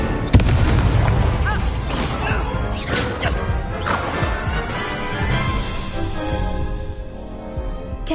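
Fire spell blasts in a Hogwarts video game burst out as a series of loud booming whooshes and crashes, several heavy impacts over dense game music and effects, with no talk.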